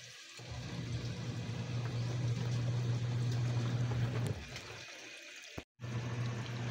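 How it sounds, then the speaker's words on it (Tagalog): Strong flowing water rushes steadily after a night of rain, a continuous broad hiss with a low droning undertone, fairly close, briefly cutting out near the end before resuming. "Malakas yung ngayon ng tubig,"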